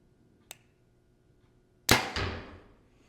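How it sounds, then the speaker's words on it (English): A compound hunting bow is shot once: a faint click comes first, then a sharp, loud release snap with a second thump and a short, decaying ring afterward, alone in a quiet setting. "It's maybe a hair louder after the shot than some of the other bows"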